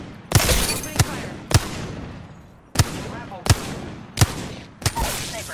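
Sharp, loud gunshots in Apex Legends, seven distinct cracks fired in a steady, evenly spaced rhythm with brief decaying echoes between them.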